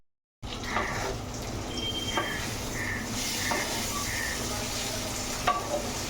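Prawns cooking with mustard in a pan give off a steady, close sizzle throughout, with a few brief stirring clinks and scrapes over the frying and no talking.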